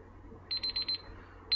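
Kitchen timer alarm beeping in a quick run of about six short, evenly spaced electronic beeps, moderately loud over a quiet room, with one more beep starting at the very end.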